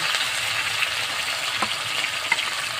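Chopped tomato and onion paste sizzle in hot oil with spices, a steady, close frying hiss with a few faint clicks, no voices.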